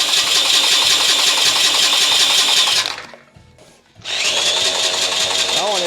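A small log splitter engine cranks and whirs loudly, cuts out for about a second, then cranks again with a high buzzing whine.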